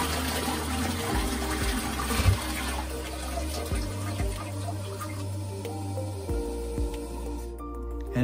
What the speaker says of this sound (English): We can now flush the toilet to check everything's working properly.